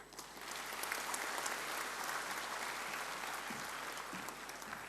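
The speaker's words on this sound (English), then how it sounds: "giving him a round of applause" An audience at an annual sessions gathering applauds a speaker, with dense, sustained clapping that holds steady for the whole stretch.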